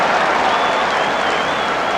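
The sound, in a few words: stadium crowd applauding a score at the Gaelic football final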